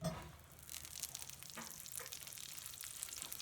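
Butter sizzling in a pan as a roux begins, a faint steady hiss with soft crackles and a few stirring clinks.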